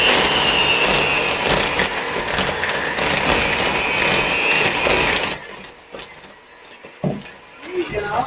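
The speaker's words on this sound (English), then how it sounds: "Now we're going to cream this all together well" An electric mixer creaming egg and vanilla into chocolate chip cookie dough whirs loudly and steadily for about five seconds, then cuts off, leaving quieter clinks and handling noises.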